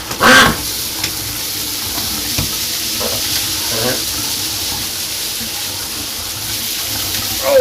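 Shower water running steadily over a dirty duck lying down in a shower, a continuous hiss with a few splashy bursts, while a person talks intermittently nearby.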